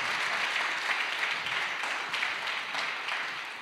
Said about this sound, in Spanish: Que vamos a dar un aplauso a nuestro Dios.